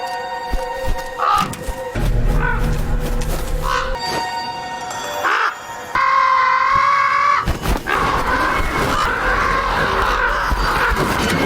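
A crow caws several times in a film scene, its harsh calls mixed with dramatic music and layered sound effects, with some pulsing, throbbing tones running through.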